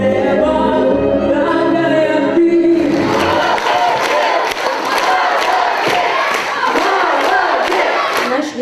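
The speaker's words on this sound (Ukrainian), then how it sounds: "Виступ юного таланта зриває шквал оплесків." Audience at a talent-show audition bursts into loud, sustained applause and cheering for a young performer, a full-room roar that breaks in after a musical passage.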